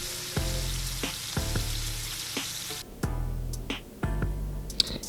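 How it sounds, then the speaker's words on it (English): Pieces of beef searing in a skillet, a close hissing sizzle broken by several distinct thuds and clanks as the meat is moved or pressed, with brief quieter gaps between bursts. "I had to sear both pieces of beef separately"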